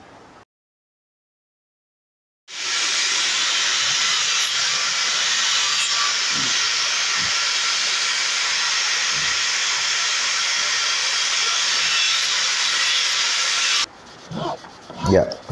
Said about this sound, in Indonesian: kembali dirapikan menggunakan kikir. Ya, kikir yang digunakan ini adalah kikir khusus kayu